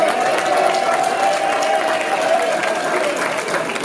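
A steady roar of audience applause for the rabbis at the Hilloula of Rabbi Haim Pinto in Marseille, continuous and full, with a faint sustained tone running beneath it.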